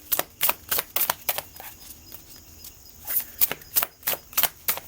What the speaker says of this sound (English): I'm going to shuffle our decks real quick.